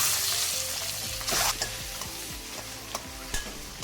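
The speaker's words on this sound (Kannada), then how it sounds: "ಅದರಲ್ಲಿ ಎಣ್ಣೆಯಲ್ಲಿ ಮೊಟ್ಟೆಯನ್ನು ಸ್ವಲ್ಪ ಫ್ರೈ ಮಾಡೋದು" Eggs frying in hot oil with turmeric, salt and chilli powder, a close, steady sizzle broken by several sharp stirring scrapes and clinks, no one talking.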